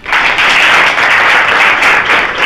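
Loud, close applause from a class of students in a government school in Jharkhand, a burst of many hands clapping at once, sustained and fairly even.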